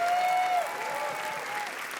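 A crowd applauds steadily at the Cannes Film Festival red carpet, a dense wash of clapping heard from a distance, with a brief tone fading out at the start.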